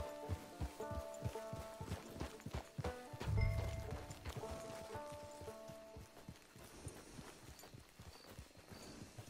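Horse hooves clip-clopping steadily in the Western video game Red Dead Online, a walking rhythm of hoof falls over light rain, with a brief low thump partway through and no talk.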